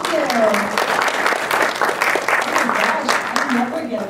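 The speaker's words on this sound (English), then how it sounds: "How great is it to come out to work and get applause like that?" An audience at an education conference applauds a speaker, with lively, dense clapping close by, while someone talks over it in an excited voice.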